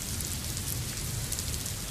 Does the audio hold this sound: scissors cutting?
no